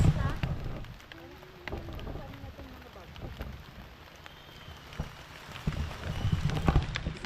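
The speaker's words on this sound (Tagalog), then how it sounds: "biglang bumuhos yung ulan, nakala ko ambon lang" A sudden heavy downpour in a rural village pours steadily with scattered patters and drips, while people talk beneath it.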